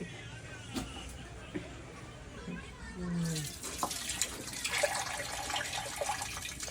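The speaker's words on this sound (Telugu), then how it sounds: "వాటర్ అయితే బాగా మసులుతున్నాయి" Water at a hard boil in a pot for mutton biryani, heard up close as a soft bubbling and hiss that grows louder and busier halfway through.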